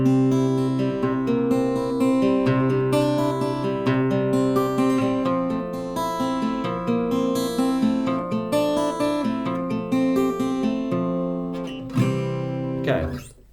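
A guitar plays a finger-picked exercise, a steady run of plucked individual notes in a flowing, repeating pattern, ending with a brief scrape.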